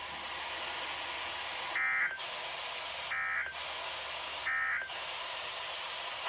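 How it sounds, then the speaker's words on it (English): NOAA Weather Radio weekly test alert tone: a steady, loud electronic warning tone held throughout, broken by three short, evenly spaced bursts of a higher data-like chirp, with no talking. "this has been a test of NOAA Weather Radio's warning device"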